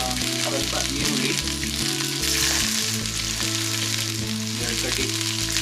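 Onions and two sprigs of curry leaves frying in oil in a pan: steady, loud, dense sizzling throughout, with occasional stirring scrapes and a low background hum.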